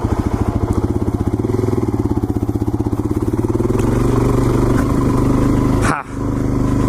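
Motorcycle ridden on worn, poor-grip tires during a training course, its engine thumping close and loud with a steady pulsing rhythm, pitch rising as it revs, then a brief sharp dip near the end before it carries on.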